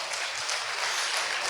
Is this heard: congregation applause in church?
yes